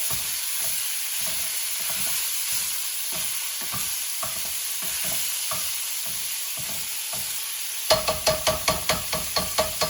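Pork and asparagus frying in a stir-fry pan: a steady bright sizzle and hiss runs throughout, with regular scraping stirs underneath and a quick run of sharper rhythmic clatters near the end.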